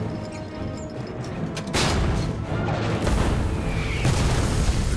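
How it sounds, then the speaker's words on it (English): A German artillery barrage from July 1944 rumbles on, with deep booms and blasts overlapping in a continuous heavy roar that grows louder partway through. "The German barrage continues."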